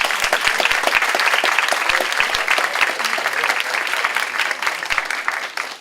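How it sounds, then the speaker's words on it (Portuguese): Audience applause at a Brazilian applied mathematics congress round-table session, a dense, steady wash of clapping from a sizeable crowd, loud and close, sustained for several seconds before thinning slightly at the end. "Então eu queria pedir uma salva de palmas a vocês e ao nosso coordenador local."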